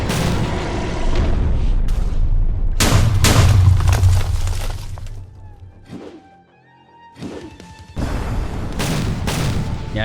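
Heavy, booming gunfire in a monster battle game, with dense loud blasts and crashes that briefly fade to near silence before erupting again.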